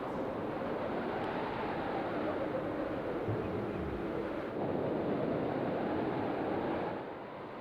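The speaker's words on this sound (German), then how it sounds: "Hören Sie, wie der Wind über diese zugefrorene Wasserfläche pfeift?" Wind blowing across a frozen lake surface in wintry Canada, a constant broad roar with strong microphone buffeting that swells slightly midway and then drops off near the end, no voices.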